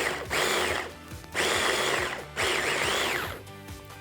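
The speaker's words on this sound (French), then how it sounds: "Nous allons mixer le tout." A kitchen blender mixes chimichurri sauce with sherry vinegar and lemon juice, running in three loud whirring bursts of roughly a second each with short pauses between them, close up and without any talk.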